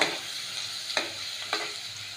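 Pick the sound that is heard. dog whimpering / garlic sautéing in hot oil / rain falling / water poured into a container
garlic sautéing in hot oil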